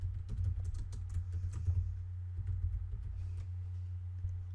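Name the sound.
typing the shop name on a computer keyboard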